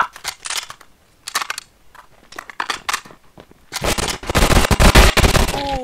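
A flashbang grenade detonating in a tactical shooter game, heard as a loud, crackling burst near the end after several sharp clattering hits and shots, with a ringing tone lingering afterward.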